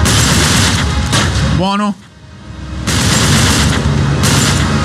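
Gunfire in the video game Uncharted 3 on PS5, dense, loud volleys of shots that drop out briefly around the middle and then resume, with a voice speaking over it.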